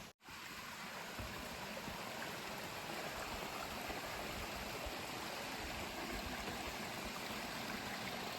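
A small creek flowing beside the Appalachian Trail gives a steady, close, continuous babble and rush of water that starts after a brief click and runs unbroken to the end.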